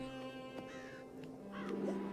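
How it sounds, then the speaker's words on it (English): Crows cawing in the video game Child of Light, several short scratchy caws spaced across the moment over a steady hum of game music, no talking on top. "There's a ton of birds just kind of all around here."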